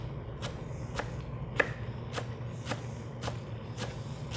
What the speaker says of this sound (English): I get some fresh basil cut up.